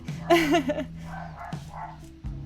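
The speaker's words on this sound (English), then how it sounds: "Oh my gosh, my dog." A dog barks indoors in a short burst of sharp, close yelping barks near the start, then goes quiet while a faint voice murmurs in the background.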